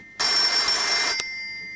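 A telephone rings with one loud, close, sustained electronic burst lasting about a second, ending abruptly with a click, then quiet room tone and no talk.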